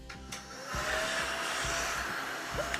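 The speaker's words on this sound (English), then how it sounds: "I also have this super cute little vacuum that I use on my desk." A small desk vacuum cleaner runs with a steady, even whirring hiss, close up, with no talking over it.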